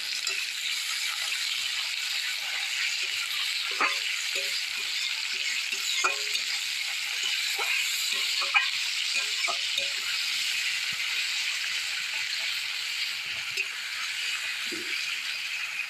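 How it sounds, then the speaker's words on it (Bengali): Chopped onions frying in fish oil in a pan, stirred now and then: a steady bright sizzle with soft scraping and clicking of the spoon, close and continuous, with no voices. "পেঁয়াজটা প্রায় হালকাভাবে ভাজা হয়েছে"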